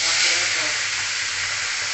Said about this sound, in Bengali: এইভাবে আমি এই মাছটাও ভেজে নিব।